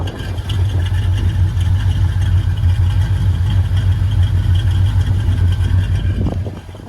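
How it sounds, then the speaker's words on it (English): A Chevrolet El Camino V8 with a new camshaft idles steadily with a slight lopey chop, a loud, close, deep rumble through a quiet exhaust that holds evenly throughout. "Listen to this idle. I think it's pretty good."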